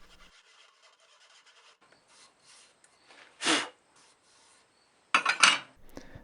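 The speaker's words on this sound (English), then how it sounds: "I'm going to start removing material by defining a barrier with the hacksaw. Just cut in a line as deep as I need to." Hacksaw cutting into deer antler in short bursts: two or three rasping strokes close up, separated by near-silent pauses, with faint scraping between them.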